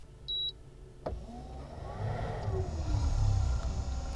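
A compact built-in air conditioner in a Nissan NV200 camper van switches on at its low setting. A beep and a click come first, then a steady fan whoosh and hum builds and holds inside the cabin.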